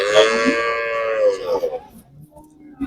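A Friesian dairy cow, first-calf, gives a long, loud moo that slowly trails off, followed by quieter low rumbles and a brief noise at the end.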